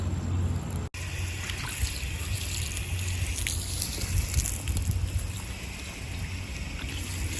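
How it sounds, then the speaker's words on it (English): Water from a hose rinsing soil off freshly dug peony roots outdoors, a steady splashing trickle with a soft rushing wash that runs continuously, alone and fairly close. "Let's go ahead and get some water and wash it off."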